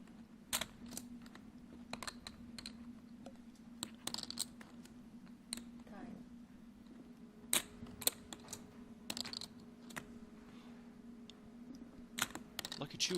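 A poker player's hand shuffles chips at the final table of the Super High Roller Bowl main event, giving faint, irregular clicking clacks over a low room hum.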